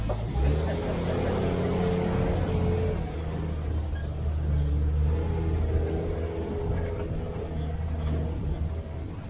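A safari truck engine rumbles steadily and low throughout, a continuous near drone with no breaks as the vehicle drives along.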